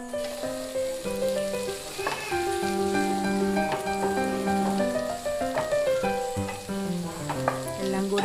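Chopped ginger and garlic fry in a hot pan, giving a continuous crackling sizzle with occasional stirring scrapes, largely masked by loud melodic background music throughout.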